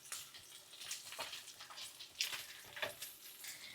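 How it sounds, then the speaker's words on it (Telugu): Capsicum frying in a pan, a soft continuous sizzle with crackling pops and occasional stirring scrapes, close by and fairly quiet. "ఇప్పుడు క్యాప్సికమ్ కూడా కొంచెం ఫ్రై చేసుకుందాం"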